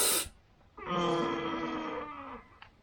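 A person lets out a long drawn-out groan while stretching, a low throaty vocal sound that holds for over a second and then trails off, coming after a brief noisy burst at the start.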